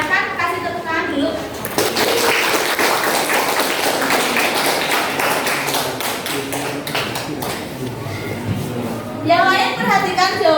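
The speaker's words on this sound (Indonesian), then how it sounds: "silakan kasih tepuk tangan dulu" Schoolchildren in an Indonesian classroom clap together in a dense burst of applause, with a voice speaking at the start and end.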